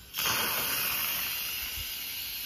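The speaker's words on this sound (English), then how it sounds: "it's okay now to go ahead and release what's left of the pressure" An Instant Pot releasing the last of its pressure while making turkey or chicken broth bursts into a loud, steady steam hiss that starts abruptly and carries on evenly, close to the mic with no voices.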